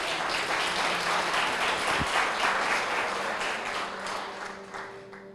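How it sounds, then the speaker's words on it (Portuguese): A church congregation applauding steadily throughout, a dense wash of many hands clapping that slowly fades near the end. "Pode aplaudir ao Senhor."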